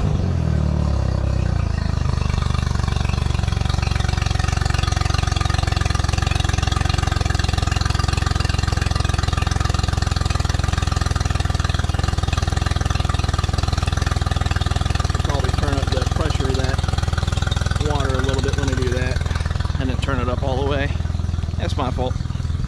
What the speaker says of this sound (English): But as you can see, she cranks up just fine.